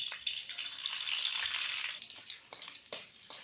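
Masoor lentil dal poured into hot oil tempered with dried red chillies and mustard seeds, a loud rushing hiss and splash that settles into a softer bubbling sizzle, close and without talking.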